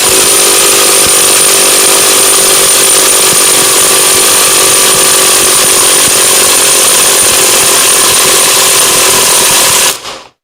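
A KAMOLEE DTW500 cordless impact wrench runs continuously at full power, a loud, steady, high-pitched mechanical whine and rattle close to the mic that cuts off abruptly near the end.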